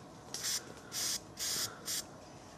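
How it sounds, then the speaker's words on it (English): Four short bursts of spray paint hissing close by, evenly spaced with brief pauses, as a badger is marked during vaccination at Snitterfield Bushes, Warwickshire. "he's marking it with the spray paint"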